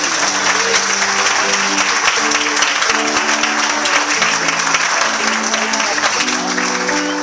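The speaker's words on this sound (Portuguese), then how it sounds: "Vamos dar uma salva de palmas para Jesus?" Steady, loud applause from a church congregation fills the space, dense clapping sustained evenly throughout with a low murmur of voices and tonal sound underneath.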